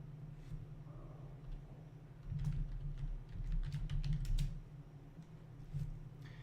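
Soft keystrokes tap on a computer keyboard as a name is typed, in quick irregular clusters with a few pauses, quiet and close.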